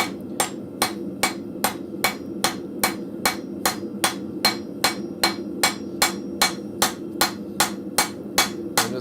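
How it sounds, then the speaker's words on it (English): A hammer striking a chisel on hot work at a blacksmith forge, about twenty sharp metallic blows at a steady even rhythm, close and clear over a low shop hum. "Now I'm going to do the same thing on the other side with the chisel."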